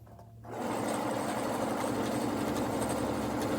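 A Pfaff Creative Ambition 640 sewing machine fitted with an embroidery foot starts up after a brief pause and runs steadily for free motion quilting, a close, continuous mechanical whir with a fast stitching rattle.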